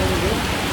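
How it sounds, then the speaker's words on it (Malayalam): Heavy rain pouring down, a dense, loud, continuous hiss of drops for under a second. "ശക്തമായ മഴ"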